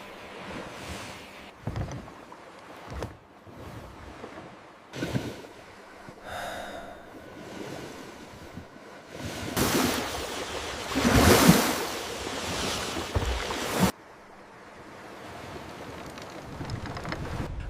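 Sea waves as a sound effect rise and fall in repeated surging washes, with a long, loud crashing swell in the middle before it drops back to a softer wash. No one speaks.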